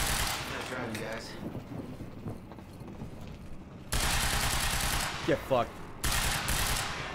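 Gunfire in the video game Quantum Break, bursts of rapid shots that swell loud in the second half, with a voice speaking briefly over the game sounds.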